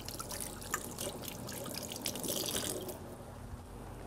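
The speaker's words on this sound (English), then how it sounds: "Wash my hands a little bit." Tap water runs steadily into a kitchen sink while hands are washed, a continuous close splash and trickle with small sloshing changes throughout.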